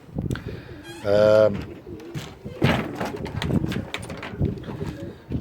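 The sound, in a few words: pigeons cooing in a loft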